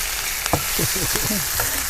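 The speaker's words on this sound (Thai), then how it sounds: "หมู ลงไปผัดนะหมูสามชั้นนะคะ" Pork belly stir-fries in a pan for a Thai braised pork with pineapple dish cooked outdoors by a river. A constant loud sizzle with scraping stirs comes through, and a voice is faintly heard underneath.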